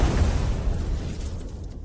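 Stacked bombs detonate on an enemy in The First Descendant, producing a loud, dense, rumbling blast that roars throughout, up close with no voices, and thins slightly toward the end.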